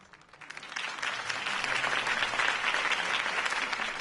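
Sustained crowd applause in a Batman video game builds quickly and keeps going steadily, a dense wash of many hands clapping with no talking over it.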